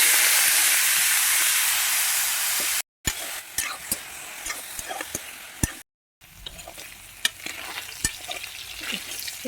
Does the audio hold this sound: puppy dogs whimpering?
no